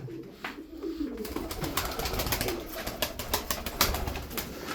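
Tumbler pigeons coo at their nest in a loft, producing a steady murmur of low coos mixed with soft rustling and scattered clicks, fairly close and continuous throughout, with no talking.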